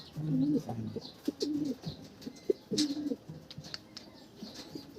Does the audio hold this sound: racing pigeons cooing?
yes